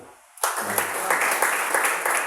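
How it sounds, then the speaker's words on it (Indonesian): Applause breaks out abruptly in a church hall after a brief quiet, and a crowd's dense clapping then carries on steadily. "kita tepuk tangan."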